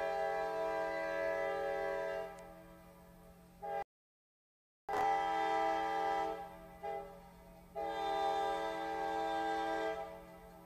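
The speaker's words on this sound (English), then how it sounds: "Sorry, I live here by the train tracks by the fuel depot." A train passes on tracks beside a fuel depot, giving a loud, steady horn-like drone with strong layered tones that holds for several seconds, briefly cut off, then returns and carries on close by.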